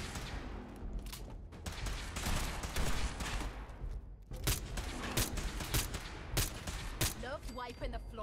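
Video game gunfire from Fallout 4, with bursts of shots and clattering combat noise in a busy mix that also carries other game sounds and a voice.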